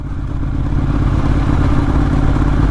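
A motorcycle engine runs steadily during a ride, loud and close, with a continuous throbbing drone and mechanical clatter and no voices.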